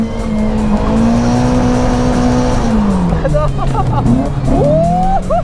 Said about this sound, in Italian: Utilizza anche questa tecnica chiamata manji drift. Consiste nel far sbandare l'auto anche sul dritto